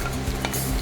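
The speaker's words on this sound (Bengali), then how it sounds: "এবার আমরা এতে পেঁয়াজটা দিয়ে দেবো।" Onion dropped into hot oil tempered with cardamom for Bengali mutton kosha, a close, brisk sizzle with a stirring scrape over a very short moment.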